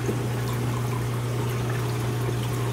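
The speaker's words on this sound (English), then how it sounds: "It sucks in from here through this pump, flows back into the refugium" A hang-on-back refugium pump in a DIY clownfish breeding tank runs steadily with a low, constant hum under a continuous trickle of flowing water.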